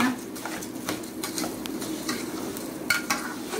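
Rice and garlic fry in a pan and are stirred with a utensil, giving a close, steady sizzle broken by repeated scraping strokes and light clinks against the pan.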